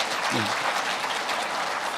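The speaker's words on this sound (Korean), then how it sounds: "뭐 굳이 또 박수 얘기를 안 해도 이렇게 쳐주시니까 참 너무 감사합니다" An indoor lecture audience claps steadily and densely for about two seconds, a continuous wash of hand claps with no pauses and no voice standing out above it.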